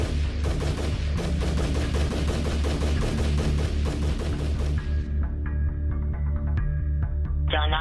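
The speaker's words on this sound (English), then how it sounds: "154 rounds from a Bushmaster's semi-automatic rifle" Rapid semi-automatic gunfire from a Bushmaster rifle, a dense loud string of shots cracking close together for several seconds, then stopping, leaving a low hum with faint tones.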